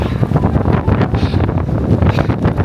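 Strong wind gusting across a high mountain pass at about 4,300 metres, buffeting the microphone in a loud, continuous roar that swells and eases in rapid waves.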